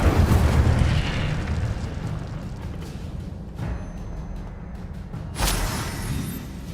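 A fire spell is cast in a wizarding video game, giving a loud roaring whoosh and burst of flame with a rumbling eruption-like body, then a second sharp flare near the end.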